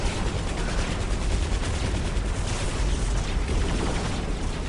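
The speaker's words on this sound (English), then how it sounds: "There's the weapon servitors shooting my orca." Weapon servitors firing on a Tau Orca in the strategy game Dawn of War: a dense, continuous roar of rapid gunfire and blasts, loud and unbroken from start to finish.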